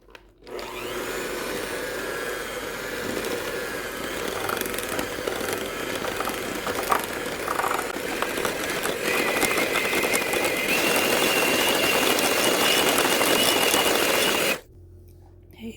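A mixer whipping homemade coconut oil body butter, a steady loud electric motor whir with scraping texture running continuously for about fourteen seconds, then cutting off abruptly.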